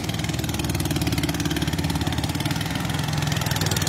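Motorboat engine running steadily at a low throb with a fast regular pulse, loud and close, without pause and with no talking.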